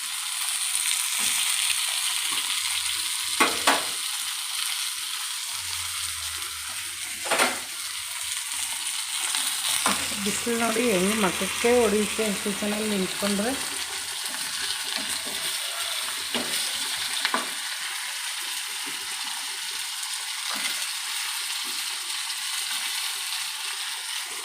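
Cumin, pepper, fenugreek, onion, green chilli and coconut roast in a pan for sambar, giving a steady soft sizzle with faint stirring scrapes and clicks, while someone talks briefly.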